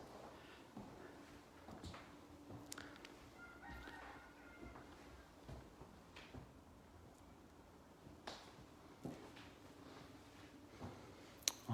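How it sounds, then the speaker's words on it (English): A rooster crows faintly in the distance outside a mid-century house in Kenmore, its calls rising briefly over a low, steady background hum. "that is a rooster"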